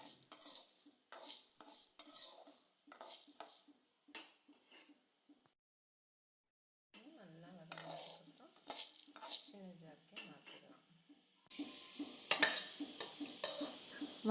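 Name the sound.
roasting spices with pepper, stirring in a pan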